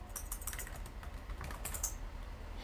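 A password is tapped out on a computer keyboard in quick, irregular bursts of light clicks, close by and moderately quiet, with a short pause partway through and no speech.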